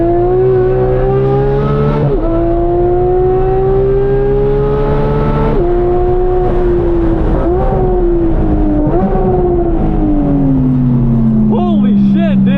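2018 Porsche 911 GT3 (991.2) driven hard on a race track, its high-revving engine loud and close with repeated climbs through the gears and sharp shifts, voices speaking over the sustained engine roar.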